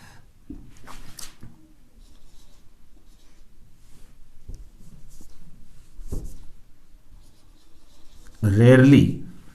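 A pen scratches out letters by hand in brief, faint strokes separated by quiet gaps, close by, with a person talking over the writing and a louder voice near the end.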